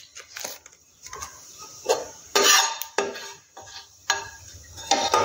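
Cumin seeds frying in a pan, heard as loud, close clatter of a spoon stirring and knocking on the pan in uneven strokes, with a faint sizzle underneath.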